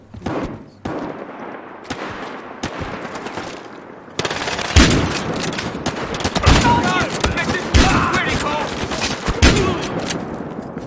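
Gunfire in the Battlefield Hardline video game: scattered sharp shots at first, then dense, loud bursts of automatic fire crackling without pause through the rest of the clip.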